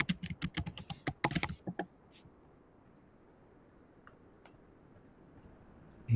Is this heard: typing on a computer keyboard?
yes